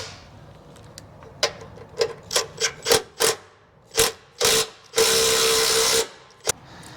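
Bolts fastened onto a bracket during a Whipple Stage 2 supercharger install on a 2024 Ford F150 4x4 5.0L, heard as a series of short, sharp ratcheting and power-tool bursts, close and loud, ending in one longer sustained run.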